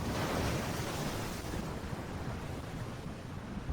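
A rushing water effect of someone being flushed away in a tabletop role-playing game, heard as a loud, steady whoosh of churning water with no voices over it.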